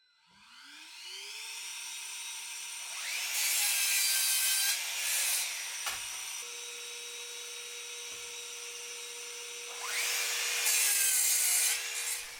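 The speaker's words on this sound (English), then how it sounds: "so I can get the miter saw set up, get a 4x2 on, and I'm going to cut that angle at the end of each one" A miter saw cuts a 15-degree angle through the end of a 4x2 timber: the motor spins up to a steady whine, the blade bites in with a loud, bright cutting roar, then winds down before a second cut repeats the pattern.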